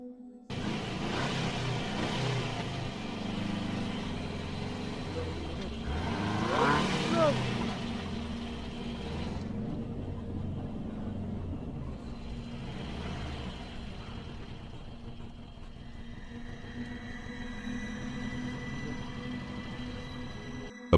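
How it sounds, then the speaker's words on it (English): A vehicle rolls slowly across an open field at night, its steady low engine rumble and road noise continuous and fairly close throughout, without pauses. "the vehicle is seen moving slowly across the open field"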